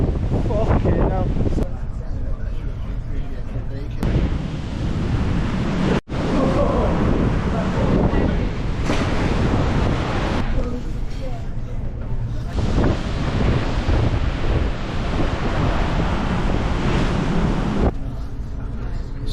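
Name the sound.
strong wind blowing on Irish coast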